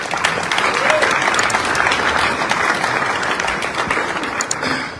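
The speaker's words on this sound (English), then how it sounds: "Please applaud them. Give them a hand." Guests at a charity dinner give a loud, full round of applause for the organizers, many hands clapping densely and continuously, with a few brighter individual claps standing out.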